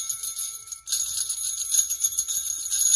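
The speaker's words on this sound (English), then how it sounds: "Maybe they're just little jingle bells." Small jingle bells shake and tinkle continuously in a bright, airy shimmer, with a brief pause before the jingling resumes.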